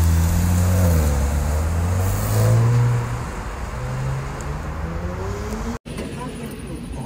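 A rental car pulls away, its engine rumbling loudly at first and then settling into a steadier drone as it moves off, with background noise continuing to the end.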